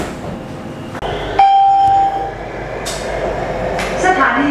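BTS Skytrain EMU-A2 electric train on the Samrong–Kheha line, rumbling steadily from inside the carriage with a sustained motor whine and occasional brief chimes and squeals.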